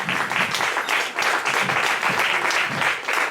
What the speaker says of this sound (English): Let's give our sisterhood another round of applause.